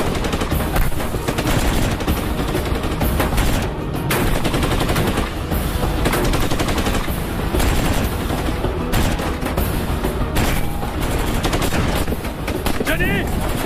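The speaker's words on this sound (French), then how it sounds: "c'est la mitrailleuse qui nous tire dessus" Machine gun fire in a French action film battle scene, dense bursts of shots sustained loudly throughout, mixed with other combat noise and a possible voice underneath.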